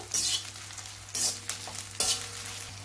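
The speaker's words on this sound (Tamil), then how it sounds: "கத்திரிக்காய் சேர்த்ததுக்கப்புறம் லோவில் வச்சுக்கோங்க." Sliced brinjal frying in hot oil on a low flame, with a soft steady sizzle and sharp bursts as the pieces are stirred in the pan three times.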